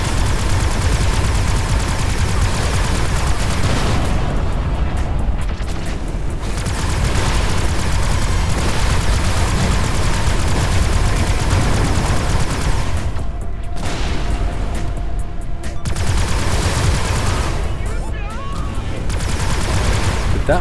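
Dense, continuous gunfire and bursts from spaceship weapons, beam fire and shotgun blasts, in the space combat game Everspace 2, loud and steady for the whole stretch with a few brief dips between volleys.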